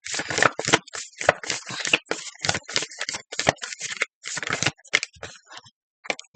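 Close, crisp papery rustling and riffling of tarot cards being shuffled, coming in quick irregular bursts with short pauses between them.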